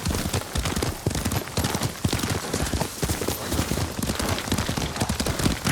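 Steady, rapid clip-clop of horse hooves at a brisk pace in the video game Ghost of Tsushima, close and continuous, with no talking.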